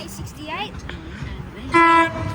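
A Sydney Waratah A-set electric passenger train at Westmead station sounds a loud, sustained two-tone horn blast near the end, after brief chirps and station noise, with people talking beforehand.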